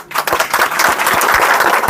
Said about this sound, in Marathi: त्या हवाई दलासाठी टाळ्या वाजवा.